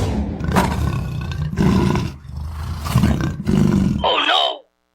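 A tiger growls and roars in several loud, close bursts, ending with a rising snarl before abrupt silence.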